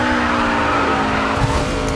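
Race car driven in the video game GRID 2, a loud steady engine drone with a sustained tire-squeal tone running throughout, close and with no talk.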